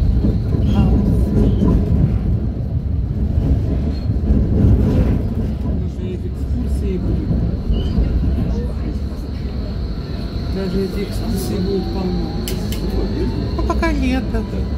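A tram rolls through Berlin, its steady rumbling ride noise and faint rail squeal continuous throughout, heard from inside with people chatting over it.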